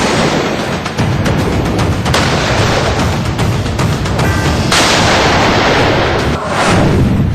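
Heavy artillery and gunfire from the Pakistan army along the Line of Control border, a loud, dense barrage of booming blasts and shots rolling continuously without pause, with no voices.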